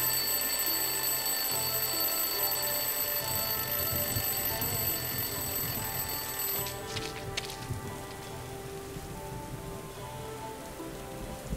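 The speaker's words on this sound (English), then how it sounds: "I'll place the alarm clock in the rubbish bin. Let's see what happens when it goes off." An alarm clock rings inside a rubbish bin in the adventure game Lost Horizon: a steady metallic ringing over a constant rain-like hiss, with the tone shifting and thinning after a few seconds, and no voices.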